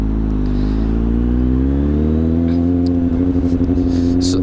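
A Kawasaki Z800 motorcycle with a Two Brothers Racing exhaust, baffle removed, idles loud and close with a deep throaty burble that rises slightly, then turns into a choppy, lumpy pulsing rhythm.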